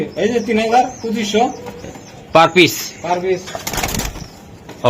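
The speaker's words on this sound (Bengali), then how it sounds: "দর্শক আর একটা জোড়া কবুতর আমি একটু দেখাই" Racing pigeons cooing close by in repeated soft throaty bursts, with someone talking over and between the calls.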